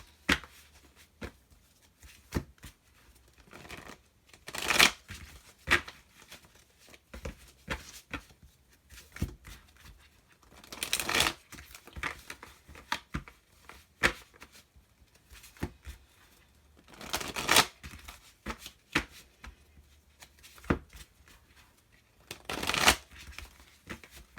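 Tarot deck being shuffled in repeated bursts, with loud riffling bands every few seconds between softer card handling and taps, close and with no talking.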